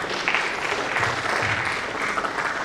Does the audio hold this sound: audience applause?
yes